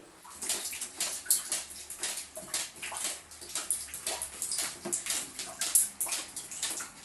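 Rainwater pours and drips through a flooded apartment during a heavy downpour, with walls, ceiling and floor soaked; a steady uneven splashing and trickling runs throughout, fairly close, with no talk.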